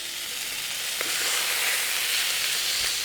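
Fish fillets frying in a hot pan sizzle in a steady, bright hiss, with a soft clack of a spatula turning pieces partway through.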